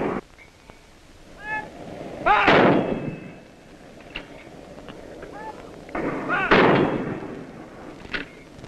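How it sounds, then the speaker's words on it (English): Artillery guns fire during the 1960s Aden Emergency, two heavy booming blasts several seconds apart with rolling echoes, surrounded by distant outdoor noise and faint chirping sounds. "Guns take over from the expended hunters."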